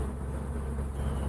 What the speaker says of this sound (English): I don't know the temperament of these bees.